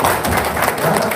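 Dense applause from a crowd, steady and fairly loud throughout the short moment.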